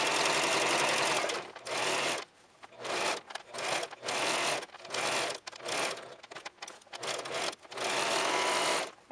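A sewing machine stitches shirring fabric in repeated bursts of steady, close, buzzing mechanical whir, stopping and restarting many times, with no talk.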